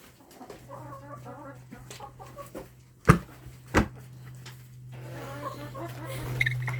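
Farm chickens out foraging for bugs, clucking softly and repeatedly at close range, with a couple of sharp knocks and a faint steady hum beneath.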